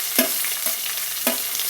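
Onion pieces frying in a pan for curry leaves rice, a steady close sizzle with three short stirring scrapes spread across it, no voices.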